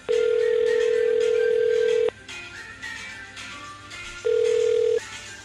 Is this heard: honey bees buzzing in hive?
no